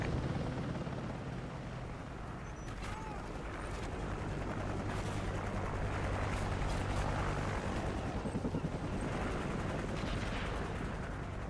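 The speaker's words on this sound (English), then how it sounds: "Standing by. Friendly chopper inbound." A friendly helicopter arrives in a Call of Duty video game with a steady rotor drone, while gunfire and machine-gun bursts crackle over it in a dense, loud battle mix, and a radio-style voice is heard.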